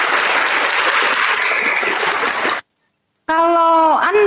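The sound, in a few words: applause at a debate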